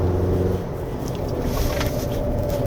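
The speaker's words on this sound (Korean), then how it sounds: "타이어 소리가 나긴 나는데 그게 어느 쪽에 치우쳐져 있지가 않아요" Steady tire and road rumble inside a moving 2025 Chevrolet Colorado Z71 pickup truck on a winding road, a dense low roar with no voices, constant throughout.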